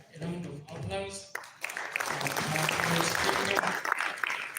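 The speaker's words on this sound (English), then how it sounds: "A round of applause." Applause at a community gathering with the electoral commission in Uganda, a voice speaking first, then a swelling burst of many hands clapping that grows louder and continues to the end.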